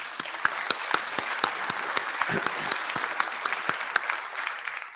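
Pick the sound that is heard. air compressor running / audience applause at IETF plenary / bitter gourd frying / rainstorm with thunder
audience applause at IETF plenary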